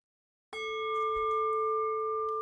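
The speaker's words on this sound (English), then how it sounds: "And by the sound of the bell" A ritual bell is struck once, its bright ringing tone sustaining steadily with clear overtones for about two seconds, close and alone with no voices.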